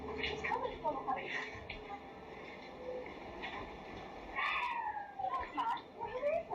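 A cat meows several times among other game-like sounds, with people talking over it throughout.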